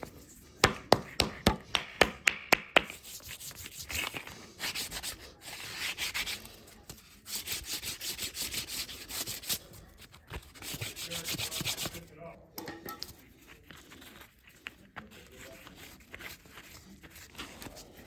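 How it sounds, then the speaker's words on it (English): A sharp scraping tool rasps along plant leaf fibers, loosening them for primitive rope; a burst of rapid taps opens, then sustained rough, wet rubbing strokes continue up close and fairly loud. "Start with this sharper scraping tool"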